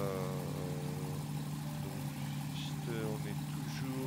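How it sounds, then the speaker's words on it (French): Nord 1101 Ramier aircraft piston engine idling on the ground at steady revs, a continuous loud drone with a voice speaking intermittently over it. "le régime moteur est bon. On va attendre qu'il se stabilise."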